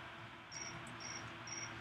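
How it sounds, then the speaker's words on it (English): Crickets beneath an outdoor wooden deck give three short, high, steady chirps in a quiet backdrop, faint and somewhat distant. "Sounds like the crickets are under the deck."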